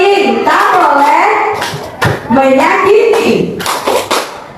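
Group hand clapping in rhythmic bursts keeps time with voices chanting an anti-bullying clap routine in a school setting, the claps punctuating the singing in short sharp clusters.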